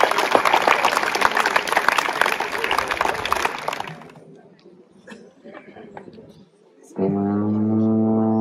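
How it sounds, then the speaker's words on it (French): Audience applause for a Breton singing group at a summer festival concert in Josselin, a loud dense burst of clapping that fades out after about four seconds, followed by quiet, then a sustained tonal drone entering near the end. "je vous demande de les applaudir"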